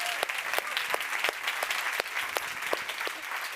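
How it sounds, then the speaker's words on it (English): An audience at a science summit gives a round of applause for a group of research pitchers, a steady wash of clapping from many hands with individual sharp claps standing out, moderately loud throughout. "please give another huge round of applause for our previous 30 pitchers"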